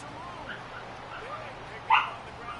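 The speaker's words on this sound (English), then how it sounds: "stop all the damn barking" A single short dog bark rises briefly above a low, noisy background, distant rather than close.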